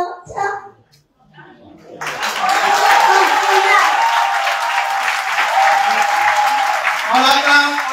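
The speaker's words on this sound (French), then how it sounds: "On l'acclame, Père Sarah béni." A crowd claps and cheers for Père Sarah at an outdoor ceremony, starting abruptly after brief voices and staying loud and dense for several seconds, with a voice rising near the end.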